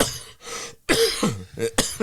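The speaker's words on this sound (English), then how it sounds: "So, I do apologise for my coughing" A rapid string of harsh coughs, close and loud, with short raspy breaths in between.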